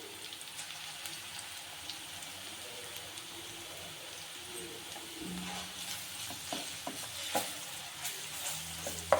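Chicken pieces frying in a pan, a steady soft sizzle with faint scraping that grows slightly louder toward the end, with occasional sharp pops and clicks near the close; no voices.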